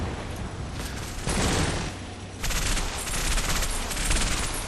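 Sustained crossfire of rifle and machine-gun fire in the World War II video game Combat Mission, with German forces firing into a building holding a rifle team; dense bursts swell and ease over a steady bed of battle noise, no talk.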